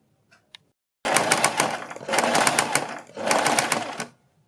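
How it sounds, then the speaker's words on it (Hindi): A sewing machine stitches a neck strip onto a blouse in three quick whirring runs, each a steady rattling burst separated by brief pauses, preceded by two faint clicks, close and without talk. "बिल्कुल इसी सिलाई के ऊपर हमें सिलाई लगानी है।"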